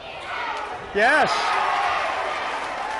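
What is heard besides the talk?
crowd cheering at a high school basketball game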